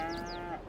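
A cow newly unloaded from a livestock trailer moos once, a faint, brief, tonal call that trails off quickly in the quiet farmyard air.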